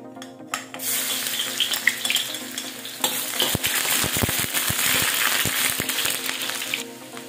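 Garlic sizzles loudly in hot oil in a pan, a steady frying hiss with bursts of stirring and scraping clatter from a utensil against the pan partway through.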